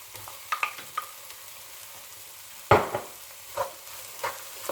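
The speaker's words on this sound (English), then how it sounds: "So after the apples have been cooking for about 5 minutes, it's time to put the brown sugar in." Apples cook in a pan, with soft sizzling and a few sharp stirring clacks and scrapes at irregular intervals, close and moderately loud.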